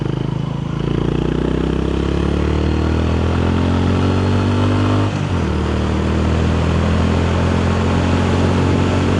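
A Honda CB350-class motorcycle engine drones at top speed around 130 km/h, steady and loud with a slight dip in pitch midway, likely a gear change, then holding strong.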